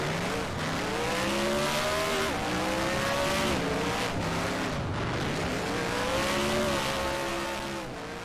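A street stock race car at New Smyrna Speedway does a celebratory burnout on the front straightaway after winning a feature race, engine revving and wavering in pitch over screeching tires, loud and continuous.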